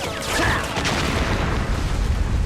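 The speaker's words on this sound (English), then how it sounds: "Why was there an explosion there?" A single explosion in the stealth video game Metal Gear Solid: The Twin Snakes lands as a deep boom near the start, then rolls on as a dense rumbling wash that slowly settles.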